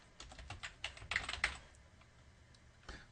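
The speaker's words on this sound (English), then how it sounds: "I can just come over here to my Git directory for Django and type git checkout and then the name of the branch" Keys clack on a computer keyboard as a git checkout command is typed, in a short quick burst of close, faint keystrokes followed by a couple of scattered taps.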